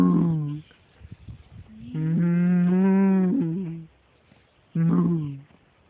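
Horned cows moo in long, loud, close calls, one sustained bellow between shorter ones, with quiet gaps and faint background sound between them.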